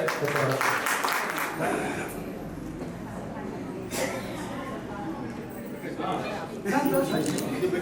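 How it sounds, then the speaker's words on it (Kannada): Audience applause at a fifth anniversary function, a broad steady patter of many hands clapping throughout, swelling near the start and again at the end, with voices mixed in. "ದಯಮಾಡಿ ಒಂದು ಚಪ್ಪಾಳೆ ಕೊಟ್ರೆ"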